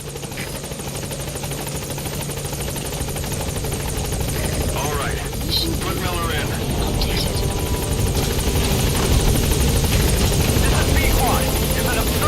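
A helicopter in the video game Metal Gear Solid 5 thrums steadily and loudly throughout, its rotor drone continuous under a voice speaking over it.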